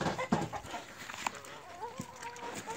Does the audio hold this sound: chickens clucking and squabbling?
yes